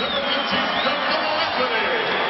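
NBA arena crowd at a Los Angeles versus Denver game reacting to Carmelo Anthony and Allen Iverson, a dense, sustained roar of many voices under a commentator talking over it.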